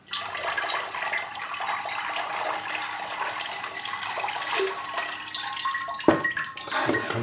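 Water poured through a container into a pot, a steady rushing, splashing flow lasting several seconds at moderate loudness, ending with a few clunks and sloshes.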